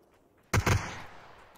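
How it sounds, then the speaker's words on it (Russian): Gunfire in the video game PUBG: two sharp, loud shots in quick succession, followed by a short reverberating tail over quiet background. "Это ты выстрелил сейчас, тр-тр, или нет?"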